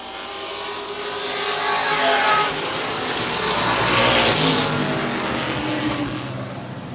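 Race cars at a short-track oval, among them a 1974 AMC Matador, roar past loudly in a continuous swelling and fading engine drone, with no talk over it.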